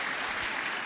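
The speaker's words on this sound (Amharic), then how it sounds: "አጨብጭቡለት።" Dense applause from a church congregation during a pastor's sermon, loud and continuous through a brief burst.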